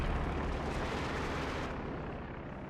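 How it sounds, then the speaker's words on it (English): Howitzer artillery fire in the Company of Heroes 2 game, a loud, dense rumbling boom that fills the whole clip and then tapers slightly toward the end. "And now the Howitzer's back, they're shooting other targets."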